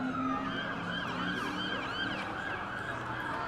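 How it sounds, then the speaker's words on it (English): Police vehicle siren wailing at a spring varsity football game, its rising and falling tones sustained and fairly loud through the whole moment over steady outdoor background noise. "You'll hear the sirens."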